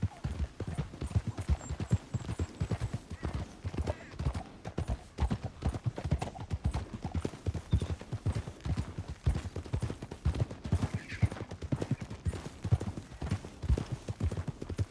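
Horse hooves in the Red Dead Redemption 2 video game pound in a fast, continuous galloping rhythm for the whole stretch, steady and moderately close, with a brief faint voice early on.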